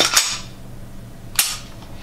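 An accessory slides onto the rail of a Sarsilmaz SAR 9 pistol, producing two sharp metallic clicks about a second apart, close and fairly loud against a quiet background.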